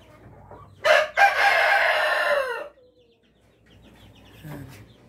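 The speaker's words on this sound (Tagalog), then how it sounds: "Yan yung rooster natin." A Rhode Island rooster on a chick-breeding farm gives one loud, close crow lasting about two seconds, followed by quieter clucking and low farmyard background.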